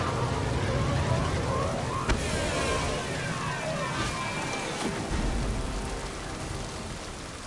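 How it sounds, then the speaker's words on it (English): Rain pours down steadily across a level of the video game Mass Effect 2, a dense continuous hiss with soft splashes and a few sharper drops, heard alone throughout. "We don't get rain very often in this game."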